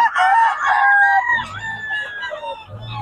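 Several roosters crow loudly in overlapping calls, their long harmonic cries close and insistent, with a low rumble of background noise beneath.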